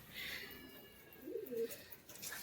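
Soft, low pigeon coos rise and fall near the middle of the clip, with faint chirps and light background noise around them.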